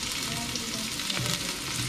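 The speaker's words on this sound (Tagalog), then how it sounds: "Yan, luya. Tapos sagdan natin ito itong sibuyas." Ginger and onion sautéing in a pan, a loud, dense, continuous sizzle with a brief stirring scrape.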